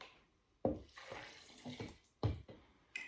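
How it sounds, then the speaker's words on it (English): Three-quarters of a cup of water is poured into raw, salted, roasted cashews for a plant-based dressing. It comes as several short, splashy bursts with brief pauses between them, close and fairly quiet, with no one talking. "3/4 cup of water."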